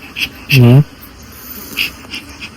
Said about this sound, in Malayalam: ഇതിലാണ് തേനീച്ച ഈച്ചിളകി എൻ്റെ അടുത്തൊക്കെ ഈച്ച വന്നിട്ടാ